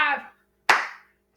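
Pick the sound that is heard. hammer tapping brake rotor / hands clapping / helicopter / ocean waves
hands clapping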